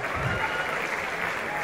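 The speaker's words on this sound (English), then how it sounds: "Clap for me." Audience applause at a Nigerian stand-up comedy show, a short burst of steady crowd clapping heard close and fairly loud.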